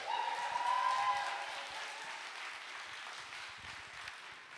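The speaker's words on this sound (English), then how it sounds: "Can we get a round of applause for Steve Jaffa Brown," Applause from a live comedy-night audience for a performer, a broad wash of clapping that fades gradually, with a brief tonal whine near the start and no speech.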